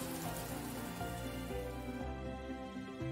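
Animated rain sound effect: a steady, dense hiss of falling rain that runs throughout, blended with soft tonal music underneath.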